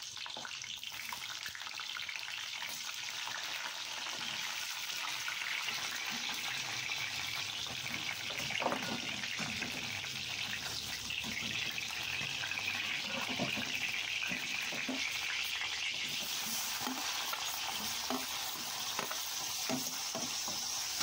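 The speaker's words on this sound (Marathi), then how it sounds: "हे चिरलेले वांगे आहेत ती सोडून घेते, जरा मला पण तळून घेते।" Chopped brinjal (eggplant) frying in oil in a pan for a masala vangi dish, giving a steady, close, continuous sizzle with occasional stirring scrapes and pops, and no talking.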